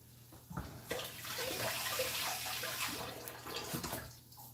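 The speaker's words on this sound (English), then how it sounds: "Take it and give it a rinse." Water runs from a tap while a spatula and other kitchen items are rinsed, a steady splashing wash with brief clatters, fairly close and with no talk.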